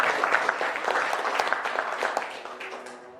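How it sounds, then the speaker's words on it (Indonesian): Applause from a classroom or school audience fills the space, a steady patter of many hands clapping that stays fairly loud before tapering off near the end. "Tepuk tangan dulu."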